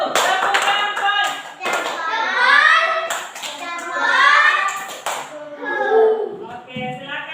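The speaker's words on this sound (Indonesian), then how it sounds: "Kalau begitu beri tepuk jempol untuk kelompok satu." In a classroom, children chant in unison while clapping together in rhythm for a group, the claps sounding as sharp, regular bursts under the loud, sing-song voices.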